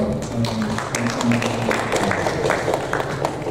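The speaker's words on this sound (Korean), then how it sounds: "우리 유스 EM을 위해서 그럼 감사의 박수 한번 할까요?" A church congregation claps in thanks for the youth group after a Sunday service announcement, many hands patting in a dense, steady round of applause from a hall full of people, with a low murmur beneath.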